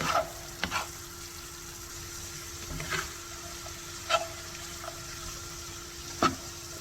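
A pepper, onion and meat mixture fries in a pan for Philly cheesesteak filling, giving a soft, steady sizzle with a few sharp utensil clicks and taps against the pan, no talk.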